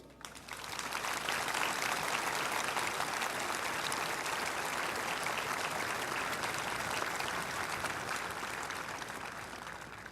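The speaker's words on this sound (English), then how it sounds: "I hope you'll join me in applauding these incredible drill instructors." A large crowd at a Marine boot camp graduation applauds drill instructors steadily for about ten seconds, a dense, even wash of clapping from a distance that swells quickly and holds.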